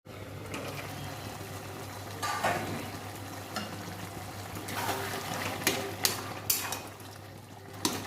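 Bottle gourd simmering in salted water in a covered pot for a lau chingri dish, giving a steady bubbling, hissing boil with occasional louder pops and lid clatters, close by, with no talking.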